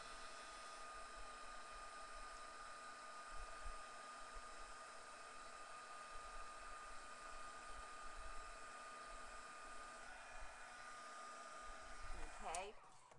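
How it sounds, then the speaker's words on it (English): A heat embossing tool blows hot air to melt embossing powder, giving a steady, close whirring hum like a hair dryer that runs unbroken, with a brief rustle near the end. "y'all are going to hear a little bit of noise, but that's okay because it's all being embossed"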